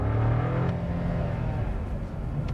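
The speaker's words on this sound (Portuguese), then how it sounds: "É óbvio que sendo um motor 3 cilindros, você tem aquele ronquinho típico dessa configuração." A Volkswagen Nivus Comfortline 200 TSI three-cylinder engine pulls hard in first gear, a steady throaty drone heard from inside the car with a slightly rising pitch and no talking over it.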